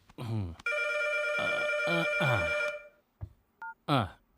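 A mobile phone rings with a steady electronic tone over a few seconds, close and clear, with a voice speaking briefly before and after it.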